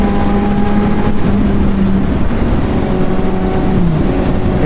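Motorcycle being ridden, a loud continuous engine drone with steady low rumble and some wind, no talk over it.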